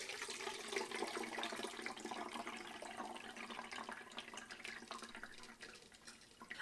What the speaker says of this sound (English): So now I'm going to use my strainer, and I'm going to pour all this in here.